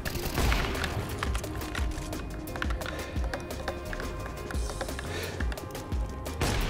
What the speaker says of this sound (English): My shots are landing where they need to land.